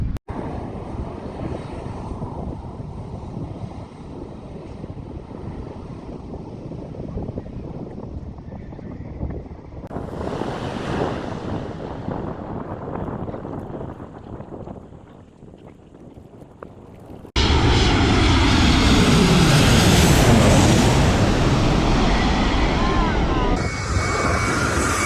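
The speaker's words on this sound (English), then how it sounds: "Did you enjoy the plane flying over you and landing" A fixed-wing airplane passes overhead and comes in to land at an airport near the sea, its engine roar and rushing air swelling loud and close, with strong wind buffeting the microphone and no talk.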